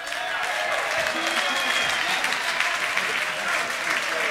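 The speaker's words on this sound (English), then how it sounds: "please give a nice warm round of applause" A live blues concert audience at the Lucerne Blues festival gives a loud, sustained round of dense applause welcoming a singer to the stage, with a hint of crowd voices mixed in.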